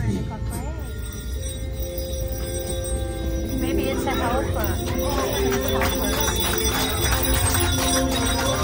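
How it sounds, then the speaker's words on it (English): Jingle bells ring over a lively crowd on a Polar Express Christmas train ride on Brightline in Miami, shaking in bright bursts under steady voices and chatter. "Oh, Santa, we have the bells."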